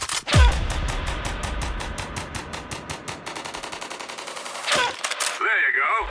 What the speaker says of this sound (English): this P90 here, I was having a arpeggiator with this sample here, with some widening and some small reverb.